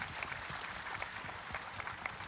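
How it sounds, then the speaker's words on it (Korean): Applause from a crowd at an outdoor memorial ceremony for a former president in Bongha village, a steady dense clapping that fills the whole moment at moderate distance. "박수를 한번 보내드릴까요?"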